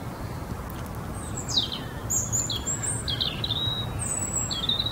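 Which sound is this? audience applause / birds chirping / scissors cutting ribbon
birds chirping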